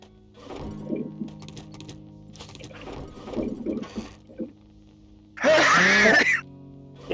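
A person coughs harshly in a loud burst near the end, after quieter muffled sounds and low background hum; the cough is heard during a Ukrainian-language 7 Days to Die co-op survival game session.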